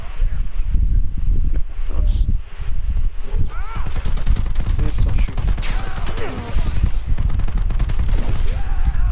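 Bursts of gunfire from the Predator video game, rapid overlapping shots and rattling volleys with loud thumps, fairly dense and continuous, mixed with game background noise.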